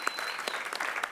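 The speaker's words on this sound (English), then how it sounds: "You can clap for Eddie" An audience claps for a card player at a live stage card show, a short burst of scattered, fairly quiet applause with a few distinct hand claps standing out.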